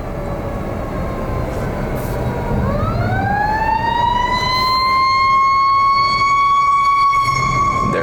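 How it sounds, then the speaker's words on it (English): A fire truck siren sounds right behind a moving vehicle, loud and close, holding a steady wail and then sweeping upward into a long sustained tone as it passes. "There's a fire truck right behind us, but I think they're gonna make room."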